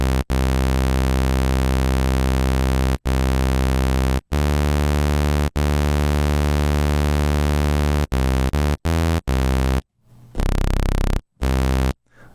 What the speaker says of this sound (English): Not bad for like a subtle sort of distortion on the stereo effect there